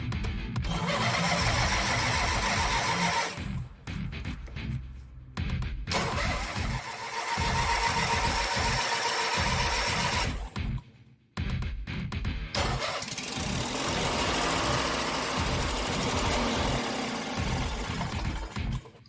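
A Briggs and Stratton Twin II riding lawn mower engine, after a fuel pump rebuild, cranks with a weak battery, catches and runs loudly up close, dropping out briefly twice before firing again into a steady rough idle.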